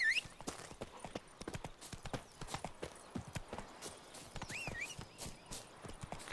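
Roach the horse gallops in The Witcher 3, a quick run of clip-clopping hooves in steady rhythm, close and fairly quiet, with a brief whinny and faint game sounds around it.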